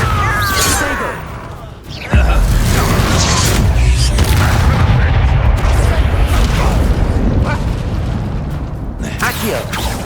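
Bombarda blasting spell from Hogwarts Legacy on PS5 Pro: a loud, close boom hits about two seconds in, then a dense roaring rumble lasts to the end, with faint tonal effects before the blast.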